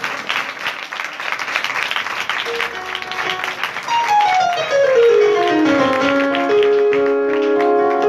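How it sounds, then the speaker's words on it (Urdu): Audience applause at an outdoor revival street meeting, a patter of clapping that carries on as sustained music tones rise in over the second half. "زوردار تالیاں بجائیں خداوند کے خادم کے لیے"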